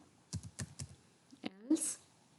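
Quick bursts of computer keyboard typing while writing C++ code, a handful of crisp close keystrokes followed by a brief louder clack, with soft talk at the end.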